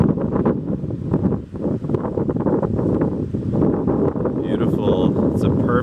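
Loud gusty wind rumbles against the microphone throughout on a cloudy day at Winter Island, Salem, Massachusetts, with voices speaking underneath and a higher tonal sound briefly near the end.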